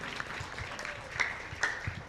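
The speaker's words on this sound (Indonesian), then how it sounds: "Luar biasa, beri tepuk tangan kembali." An audience applauding at a school year-end celebration, with soft, fairly distant clapping spread across the whole moment and a few louder claps standing out.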